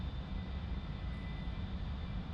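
Steady, fairly quiet jet engine roar of an A-4E Skyhawk in a flight simulator, external view, with a thin high whine, droning evenly without change.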